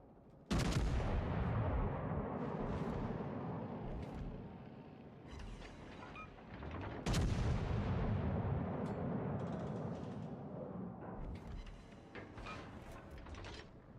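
Naval battle in a warship video game: two heavy broadside salvos of main guns and secondaries boom out, each a sharp loud onset followed by rumbling, mechanical decay, with lighter secondary gun reports scattered between.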